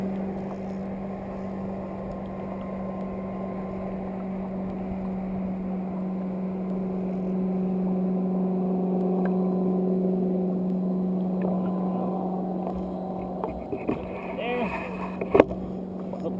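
A jet ski engine idles and runs steadily on open water while fishing, a continuous droning hum that stays loud throughout, with faint clicks and light handling noises near the end.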